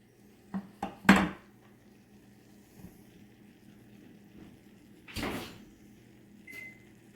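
A home kitchen oven set to 375 degrees as trays go in: a couple of quick clanks and a sharp door thud, then a quiet pause and a second softer clunk as the door shuts.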